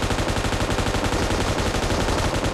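Rapid gunfire from a QBU sniper rifle in the mobile shooter PUBG Mobile, with repeated loud shots packed closely together in a dense burst lasting throughout.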